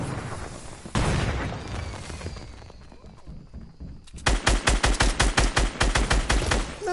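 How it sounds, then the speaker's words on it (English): A grenade blast in Fortnite: a broad burst of explosion noise, a quieter rumbling stretch, then a rapid run of loud, evenly spaced gunshots firing close by. "It's a grenade."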